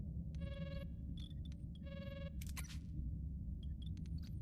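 A telephone rings in a ship-repair video game, two electronic trill bursts about a second apart, followed by scattered clicks and short beeps over a steady low rumble, with no speech.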